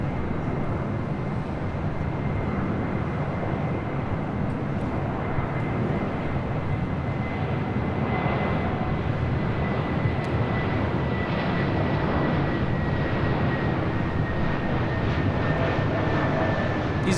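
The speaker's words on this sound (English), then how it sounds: "It's Delta Airlines 652 coming in from Orlando on an A321 Neo" Delta Airlines A321neo arriving from Orlando, with a steady, fairly loud jet engine roar and a thin high whine holding for the whole stretch, no voices over it.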